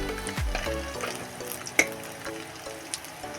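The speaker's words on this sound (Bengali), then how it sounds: "এখানে দিয়ে দিচ্ছি কালো সর্ষে আর লঙ্কা" Black mustard seeds and chili hit hot oil with a crackling sizzle, small pops and spatters scattered over a few seconds, close and moderately loud, with no talking.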